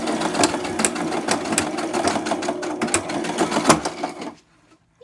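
A sewing machine stitching in reverse runs steadily and loudly with rapid rhythmic needle clatter for about four seconds, then cuts out into near silence.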